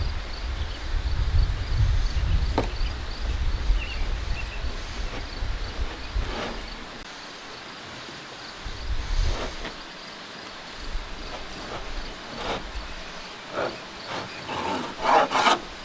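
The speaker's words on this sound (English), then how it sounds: "So let me cut my slices of bread." A knife saws through a dense loaf of sourdough bread, giving a steady rough rasping and scraping that swells and fades over repeated strokes, close by with no talking.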